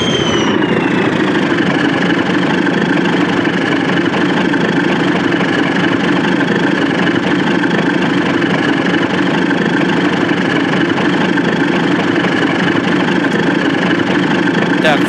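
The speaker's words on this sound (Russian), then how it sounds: "сейчас запускаем моторчик" A TEM-2 shunting diesel locomotive idles in BeamNG with a steady, even, low engine drone and a constant mechanical hum that holds unchanged from start to finish.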